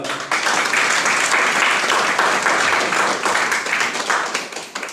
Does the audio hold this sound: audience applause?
yes